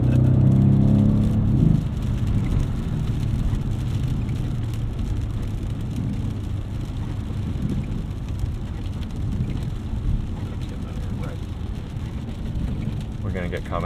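A 2015 Mercedes-Benz AMG C63 S Edition 1 in comfort mode on light throttle gives a brief loud engine surge, then settles into a steady low cabin rumble and road noise.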